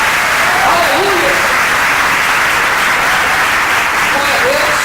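A church congregation bursts into loud, sustained applause that fills the room at steady intensity throughout, with a voice faintly audible beneath the clapping.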